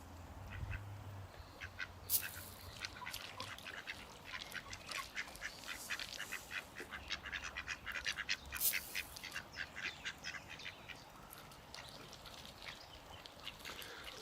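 Ducks quack repeatedly on a river, mixed with some goose-like honks. The calls come in irregular bursts at moderate distance and grow busier in the middle before thinning out.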